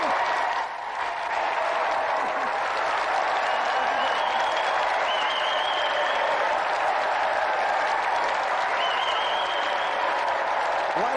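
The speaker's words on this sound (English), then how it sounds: "Let's have another round of applause for Auntie Marisha and our special guest, East 17." A studio audience on a British television games show applauds steadily and loudly throughout, with a dense wash of clapping and faint cheers, a brief dip near the start and a few whoops rising over the crowd.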